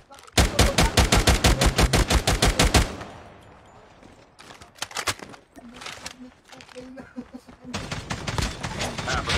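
Shots crack in a Call of Duty Mobile match, a fast burst of loud repeated gunfire followed by scattered, fainter shots while players chatter over it.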